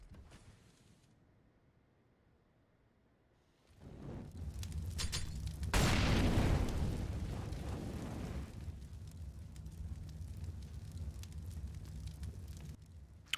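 A grenade explodes during a Counter-Strike match, accidentally thrown onto teammates at Crane: a sudden loud broadband blast, then a second heavier boom a couple of seconds later, trailing into a long rumbling roar with no voices.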